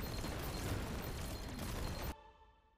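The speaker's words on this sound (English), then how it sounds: "So many explosions." Dense, continuous bursts of explosions from a roguelike action game, loud and crowded for about two seconds before cutting off abruptly into a fading tail.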